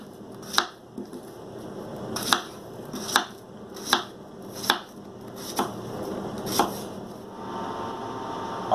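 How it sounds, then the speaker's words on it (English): A knife chops peeled plantains into about 3/4-inch pieces on a cutting board, about eight distinct cuts at a steady, unhurried pace, close and fairly quiet. "we're going to cut them into about 3/4 inch pieces"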